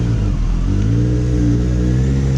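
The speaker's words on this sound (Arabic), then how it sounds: "يا جماعه، انتوا متخيلين الصوت اللي بره الكروز عامل ازاي؟ في اكزوست تعديل الجاكمان ده الموتوسيكل ده" A Kawasaki Concours ZX-14 motorcycle with a 1400cc four-cylinder engine and a modified exhaust revs up close and loud, its smooth, steady note climbing in pitch, with no talking.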